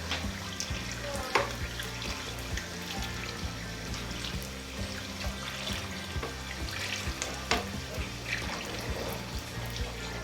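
Khaja dough sizzles and bubbles steadily in hot oil in a pan, a continuous crackling hiss with a few louder pops, while a voice talks over it throughout.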